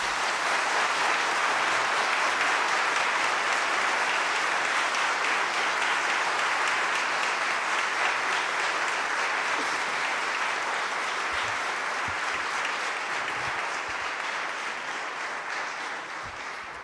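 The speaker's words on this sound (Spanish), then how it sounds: "El público les puede brindar un merecido aplauso." Sustained audience applause fills a courtroom hall at a swearing-in ceremony for new lawyers, loud and steady for about fifteen seconds before tapering slightly at the end.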